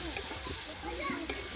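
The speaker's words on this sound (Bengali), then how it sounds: "এবার দিয়ে দিচ্ছি সেদ্ধ করে রাখা আলুটা।" Boiled potatoes go into a pan of frying spice paste for a potato and green pea curry, making a close, soft sizzle with a couple of sharp stirring scrapes, while someone speaks faintly underneath.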